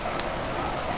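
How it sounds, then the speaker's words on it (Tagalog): Rain patters steadily at a worksite where a tubular frame is being painted, a dense, even hiss of drops with one brief brighter tap near the start. "yung ulan na yun, patak ng ulan"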